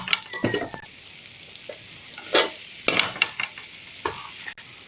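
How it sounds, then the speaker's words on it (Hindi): Cooked rice is stirred and fried in a pan for chicken fried rice, with a soft sizzle broken by several scraping, clattering spatula strokes close by and no talk. "अब हम चावल ऐड कर लेंगे।"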